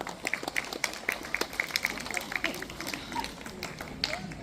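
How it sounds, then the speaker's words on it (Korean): Scattered, fairly light handclaps ring out from an audience at a guest-singer performance held at a welfare center, with voices and crowd murmur mixed in throughout. "다시 한번 따뜻한 박수 부탁드리겠습니다"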